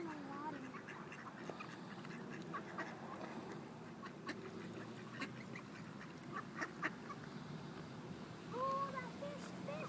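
Ducks quack at a pond in Eastlake during feeding, faint scattered calls over soft outdoor ambience, with distant voices murmuring in the background.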